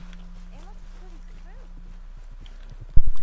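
Horse hooves clip-clop at a walk in the video game Red Dead Redemption 2, with a low steady hum underneath. A loud thump follows near the end.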